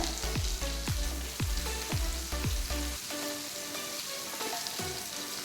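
Ginger, garlic and green chilli sauté in a pan with a steady, close hiss and crackle, punctuated by several distinct clinks of a utensil against the pan during the first few seconds before the sizzling continues alone.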